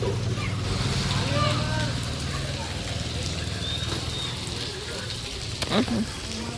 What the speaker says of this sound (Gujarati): મહિનાનું માવઠું તમે જોઈ શકો છો કે ધોધમાર વરસાદ પડી રહ્યો છે.